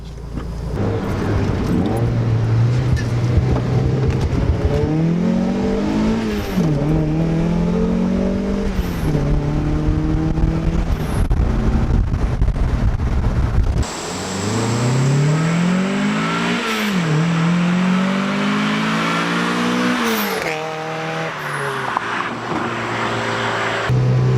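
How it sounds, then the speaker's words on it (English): A car driven after a new fuel pump installation, its engine revving up through repeated pulls with rising pitch, shifting and climbing again, loud and close from inside the cabin. "let's take the car for a rip, which I can already tell you just from the drive home that the car is running a lot better"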